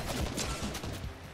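Quick gunshots in a Fortnite ranked match, a short flurry of sharp cracks close up and fairly loud, running together over a busy game background.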